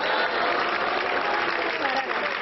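An audience at a Hindi poetry recital (kavi sammelan) claps in dense, steady, loud applause that fills the whole moment.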